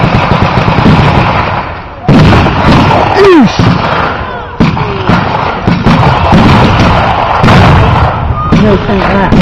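A tank taken out at a WW2 reenactment: loud blasts and booming gunfire bursts in quick succession at close range, with people talking and shouting throughout.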